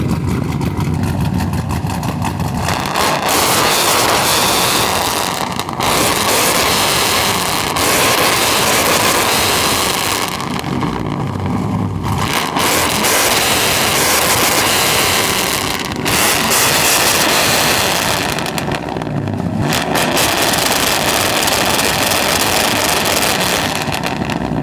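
A loud truck exhaust rumbles steadily near the burnout pit, a continuous heavy engine drone with a few brief dips and surges in intensity throughout, no talk over it.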